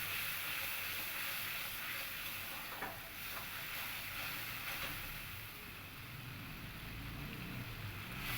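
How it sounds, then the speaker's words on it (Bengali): Masala spice paste for a katla fish curry with potato and pointed gourd is fried and stirred in a pan, a steady close sizzle with faint scraping strokes throughout. "এবার এই মশলাটাকেও আমি খুব ভালো করে কষিয়ে নেব"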